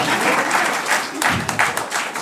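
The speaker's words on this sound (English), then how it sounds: "Applauding your own joke." A short burst of steady applause follows a joke during a podcast-style movie review, with the clapping filling the whole moment at an even, moderate level.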